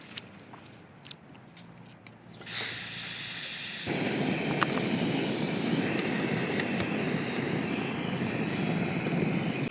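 Camping gas stove, an OEX Heiro, burning steadily while boiling 400 ml of water outdoors, a broad roaring hiss that rises louder partway through and then holds constant, with light clicks over it.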